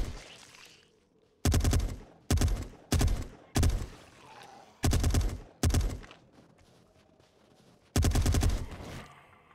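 Gunfire in 7 Days to Die comes as loud, close bursts from a gun with poor accuracy, about seven sharp shots or short volleys spaced irregularly over a quiet background, with no talking.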